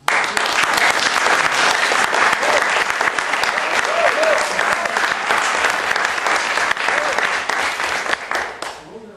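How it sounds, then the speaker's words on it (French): Loud, sustained applause from a theatre audience at a festival show in Avignon, dense clapping filling the whole stretch before tapering off at the end, with some voices mixed in. "Vous allez bientôt être applaudi."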